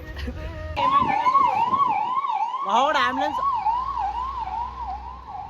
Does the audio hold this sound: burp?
no